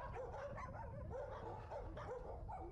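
Several dogs at a run-down animal shelter bark and yip in a repeated, overlapping chorus, with some whimpering mixed in, moderately distant and fairly faint over a constant background.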